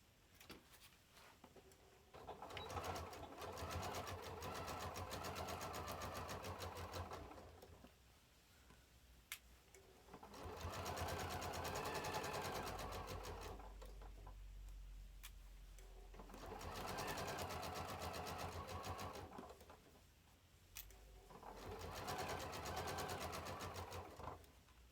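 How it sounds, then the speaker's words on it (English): A sewing machine stitches a seam across a project bag with about an eighth-inch seam allowance, running in three long steady bursts separated by brief pauses. "I'm going to stitch from right down here all the way across."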